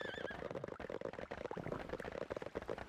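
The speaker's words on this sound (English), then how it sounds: "I'm not giving up this horse this time." Horse in the video game Sacred whinnies briefly at the start, followed by quiet busy game sounds with clip-clop-like patter, all faint and low in level.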